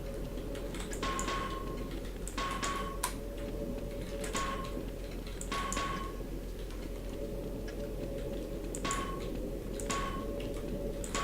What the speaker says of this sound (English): I can hear the clock.